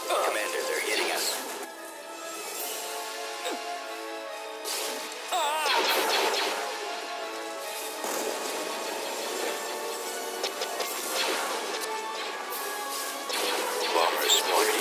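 Cannons fire amid space battle explosions in the Star Wars Empire at War video game, a dense run of booms, crashes and zapping blasts at steady loudness, layered with game sound effects.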